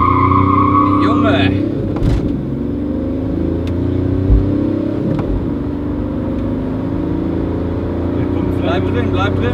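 Chip-tuned diesel car accelerating hard from 0 to 100 km/h, a steady droning engine with rising tones and gear changes heard from inside the cabin, with people talking over it.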